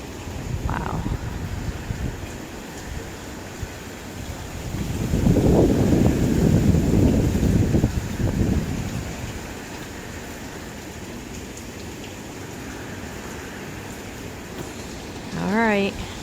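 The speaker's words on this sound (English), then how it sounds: "just a bunch of wind and rain" Hurricane Ian wind and rain, heard as a blustery rush with buffeting against the microphone that builds into a strong gust midway and then eases, with a voice speaking briefly near the end.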